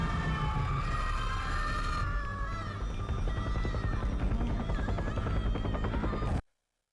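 A steady, loud mechanical drone with a rapid thudding beat, like a helicopter close by, running continuously before cutting off abruptly near the end.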